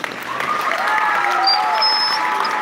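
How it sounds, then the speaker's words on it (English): Audience applause at the Ace Hotel, a full round of clapping that swells early and holds steady, with a few whistles and whoops rising over it. "one more big round of applause for Machen and Harper doing that."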